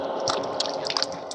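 A brief, close splash and trickle as water is scooped into cupped hands for wudu, ablution before prayer, with a few small drips.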